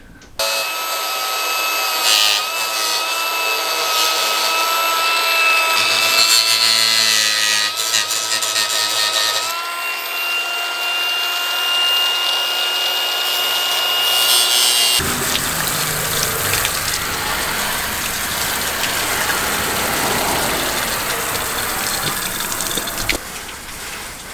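Truck fender flares are trimmed in a workshop with a power tool that gives a sustained high-pitched whine and grinding, followed by a steady rushing hiss like washing off gunk.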